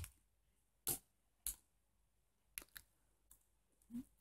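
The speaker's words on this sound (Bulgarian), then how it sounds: "тя има и лилава опашка, която може да се движи и когато се движи издава ето този звук" A purple tail on a toy doll makes a few soft, sharp clicks and ticks as it moves, spaced irregularly against near silence.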